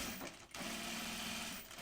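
A sewing machine stitches through several layers of bag fabric, its motor running in a steady, dense whir with a brief dip partway before picking back up.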